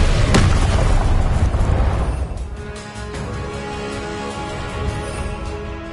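Incendio fire spell and Expelliarmus spell cast in Hogwarts Legacy: a loud, booming fiery burst that roars for about two seconds, then settles into a quieter, ringing magical hum.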